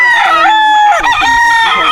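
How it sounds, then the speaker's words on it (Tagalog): Rooster crowing on a Philippine farm, two loud close crows in a row with overlapping calls, little else behind them. "Daming manok."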